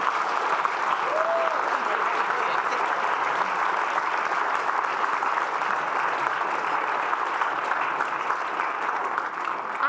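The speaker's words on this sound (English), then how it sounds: "please put your hands together" An audience at a startup demo day award ceremony applauds steadily and loudly for the full stretch, a dense wash of clapping from a large crowd with no break.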